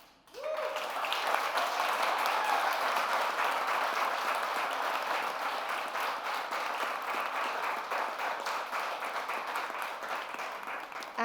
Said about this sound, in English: I'd like you to give another round of applause, please, to our winners this evening